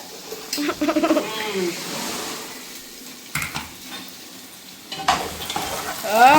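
Vegetable pulao being stirred as it fries in a pan in a home kitchen, uneven scraping and stirring strokes over a soft sizzle, with pauses and a few louder bursts near the end.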